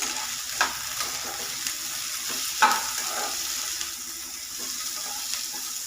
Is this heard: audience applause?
no